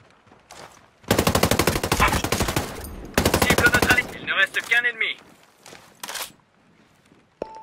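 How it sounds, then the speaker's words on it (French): Rapid automatic gunfire in the video game Ghost War aimed at the player, two long loud bursts followed by scattered shots, clicks and footsteps, then quiet gaps. "Je me fais tirer dessus."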